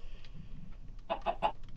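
Chicken in Minecraft gives three quick clucks in a row, clear and fairly close over faint game background noise.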